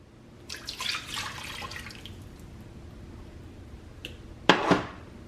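Milk pours into a pot of mashed potatoes with melting butter, a soft close splashing stream followed by a brief quiet pause and a sharper final splatter.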